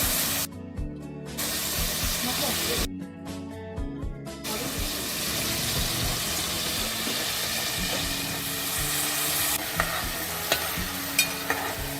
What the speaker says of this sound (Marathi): तेल गरम झाल्यानंतर त्यामध्ये लसूण घालूया